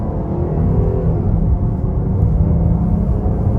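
A 2024 Jeep Grand Cherokee Limited 4x4 engine revs under about a third throttle, a steady, loud, low rumble that holds without a break and with no talk over it.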